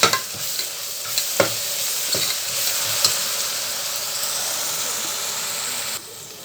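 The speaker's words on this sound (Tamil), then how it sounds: "போட்டு இது நல்லா வதக்கி கொடுக்கலாம் நல்லா வதங்கட்டும்" Ginger garlic paste sizzles in a pan while it is stirred for a mini mutton biryani, a constant frying hiss broken by a few sharp utensil scrapes and clinks near the start.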